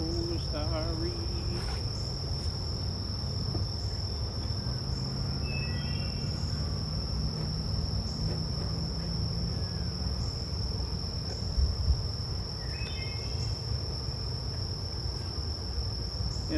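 Honeybees swarm around an open hive during a late June inspection, making a steady dense hum that lasts throughout. Constant high, thin insect tones ring over the hum, and there is no clear talk.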